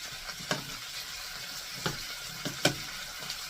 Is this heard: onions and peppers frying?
yes